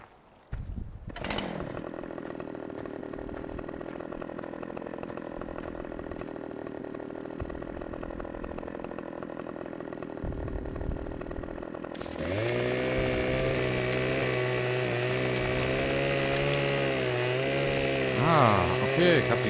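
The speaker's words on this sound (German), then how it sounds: "Muss ich den vielleicht erstmal noch ein Stück sägen?" A chainsaw in the farming game Landwirtschafts-Simulator 15 runs steadily, then bites into wood with a louder, rougher cutting tone that wavers in pitch as the saw works through the log.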